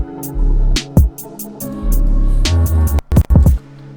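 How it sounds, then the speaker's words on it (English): A UK drill beat plays loud and close, with heavy sliding 808 bass, sharp hi-hat ticks and snare hits. A low-velocity crash cymbal sits quietly in the background of the mix. "Now we're going to have this crash playing very low in the mix with a low velocity."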